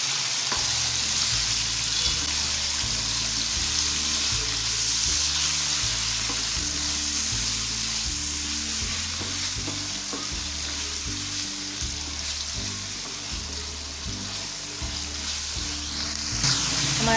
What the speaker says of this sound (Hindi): हमारा चिकन जो है ये फ्राई हो रहा है।